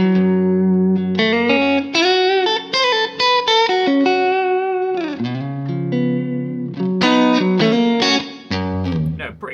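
Novo Serus T electric guitar played on a clean tone with minimal reverb, a run of bright single notes and chords at close range, steady and loud, with no talking.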